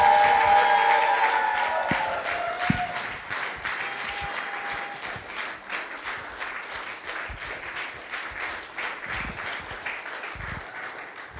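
Congregation applauding for Jesus at a church anniversary celebration, dense rapid clapping that starts loud and gradually thins and softens, with a few voices and sustained vocal tones early on.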